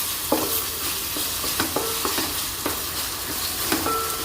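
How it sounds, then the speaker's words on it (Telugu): Ginger garlic paste frying over a medium flame in a pan, a steady sizzle broken by repeated scraping clinks of a spoon stirring, close and clear with no talking. "అల్లం వెల్లుల్లి పేస్ట్ అంత లైట్గా వేగాలి, మీడియం ఫ్లేమ్లో"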